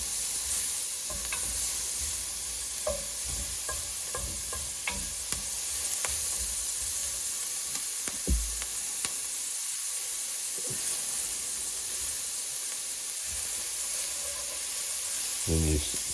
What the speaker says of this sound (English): you're scraping it off the bottom and getting the flavors in the veggies